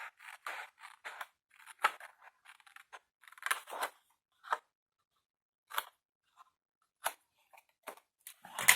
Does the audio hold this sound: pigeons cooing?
no